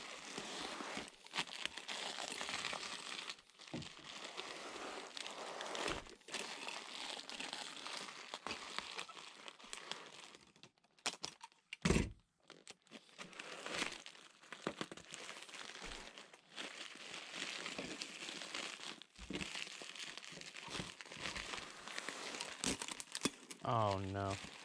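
Packing tape goes onto a large electronics box being prepped for shipping, a long stretch of loud crinkling and tearing with sharp rips and crackles, continuous and close.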